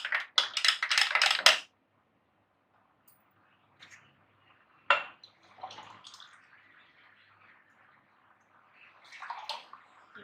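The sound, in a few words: cold water poured into a glass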